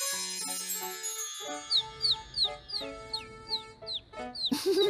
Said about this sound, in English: A pretty yellow bird.